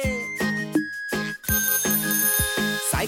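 A bicycle bell rings in a quick series of bright, ringing dings over a cheerful rhyme melody.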